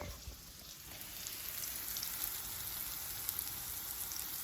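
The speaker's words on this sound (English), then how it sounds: "So we're sizzling up." Faint, steady sizzling crackle like food frying in a pan, a soft hiss with scattered tiny pops throughout.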